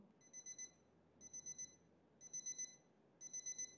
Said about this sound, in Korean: 이 제품 알람 기능도 있습니다.